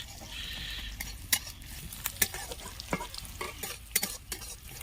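Onion and garlic fry in oil for a fish head curry, crackling steadily while a utensil repeatedly scrapes and clinks against the pan, close and busy, with no voices.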